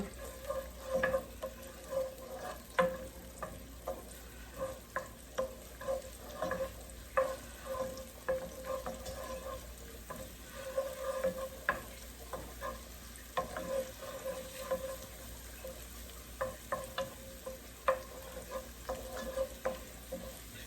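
Chopped garlic fries in hot oil in a pan, giving a steady close sizzle broken by repeated scraping clicks of a spoon stirring it around.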